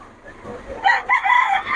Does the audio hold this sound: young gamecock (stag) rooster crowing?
yes